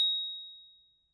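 A single bright bell ding strikes once and rings out in a clean, high tone that fades smoothly over about a second to silence.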